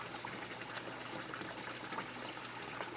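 Water pumped through a 1/2 inch pipe into the bottom of a bucket for a minnow tank swirls and trickles continuously, a faint, steady liquid wash with small splashes.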